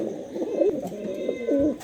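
Pet pigeons, including highflyer Giribaz, blue barless racer and Strasser Modena breeds, coo close by in two soft, rolling bursts over a steady low background hum.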